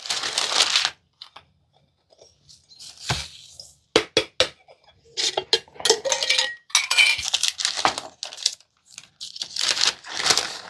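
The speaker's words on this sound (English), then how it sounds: "Let's get the brown sugar in and start mixing." Brown sugar being mixed into a sausage sauce in a bowl, intermittent clinks and scrapes of a utensil against the dish in short irregular bursts separated by quiet pauses, no talking.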